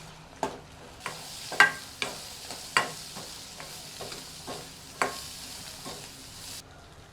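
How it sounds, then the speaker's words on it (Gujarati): Coriander-cumin powder, red chilli powder and green chillies are stirred in a pan with a steady background sizzle, and a spoon scrapes and clinks about ten times in an irregular rhythm, close and clear, with no talking. "આને સરસ બધું મિક્સ કરી લઈશું"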